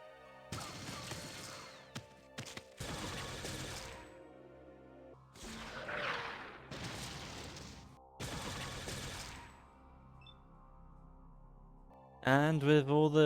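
Gunfire rings out against super mutants in Fallout: bursts of shots and crashes come in separate clusters with quiet gaps between them, and a musical sting plays at the end.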